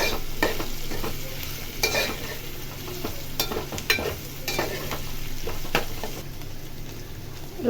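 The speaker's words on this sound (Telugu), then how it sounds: "ఫ్రై చేసుకోవాలి." Mixed vegetable curry fries in a pan with a steady sizzle while a utensil stirs and scrapes. The scrapes come at intervals, close up, and no one speaks.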